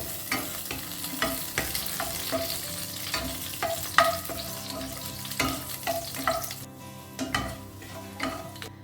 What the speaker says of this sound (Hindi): अब इसमें डाल देते हैं और इसे ना बस 1-2 सेकंड के लिए इसे सौटे करते हैं